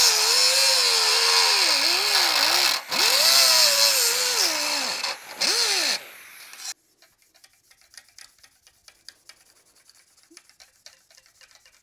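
A power tool rounds the corners of a small metal bracket for a Porsche 356 third brake light, a loud, close whine that rises and falls in pitch for about six seconds before cutting off, leaving quiet scattered ticks.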